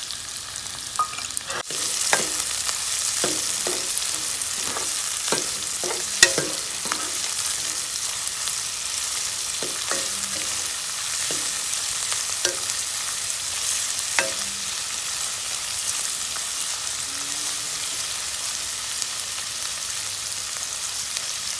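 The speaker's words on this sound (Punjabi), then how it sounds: "ਹੁਣ ਆਪਾਂ ਇਹਦੇ 'ਚ ਬਰੀਕ ਕੱਟੇ ਹੋਏ ਪਿਆਜ਼ ਪਾ ਦਾਂਗੇ ਇਹਨਾਂ ਨੂੰ ਆਪਾਂ 2-3 ਮਿੰਟ ਭੁੰਨ ਲਾਂਗੇ ਚੰਗੀ ਤਰ੍ਹਾਂ" Finely chopped onions frying in hot oil for a potato and capsicum sabzi, giving a dense, even sizzle that runs throughout, with scattered light clicks of stirring close by and no voices.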